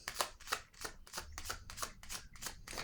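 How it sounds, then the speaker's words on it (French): Playing cards are handled from a deck during a card game, making a quick series of about eight soft, papery flicks close by and fairly quiet. "je vais piger une autre carte"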